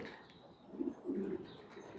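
Pigeons on a rooftop coo softly in a few low, faint, rounded calls, close by in a quiet morning setting.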